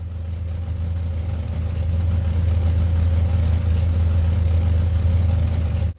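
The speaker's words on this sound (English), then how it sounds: "This car even just ticking over sounds like an absolute beast." A 1966 Ford Mustang in the racing game Project Cars 2 idles with a deep, steady low rumble, loud and close, holding an even throb for several seconds with no talk.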